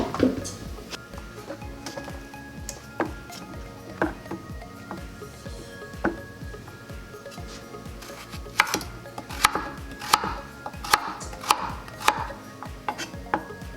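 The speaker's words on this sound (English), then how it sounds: "I'm roughly chopping about 4 carrots, 2 large onions, a couple of stalks of celery, and parsley." A knife roughly chops carrots, onions and celery on a board in irregular bursts of sharp thuds, close up, growing busier and louder toward the end.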